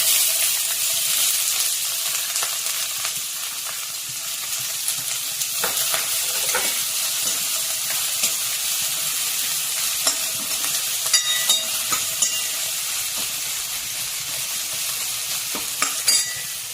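Chopped onion with green chilli sizzling in a pan for quick Maggi noodles, a loud steady frying hiss across the whole stretch, punctuated by scattered spatula scrapes and clicks, busier toward the end.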